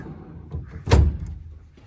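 A short scraping slide ending in a dull thunk, a drawer on a Toyota Hilux truck canopy being pushed shut, close by.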